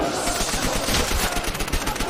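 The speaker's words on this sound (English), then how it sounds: "Only getting machine guns this game" Rapid machine gun fire in a zombies shooter game rattles in a continuous dense burst, loud and close for the whole stretch.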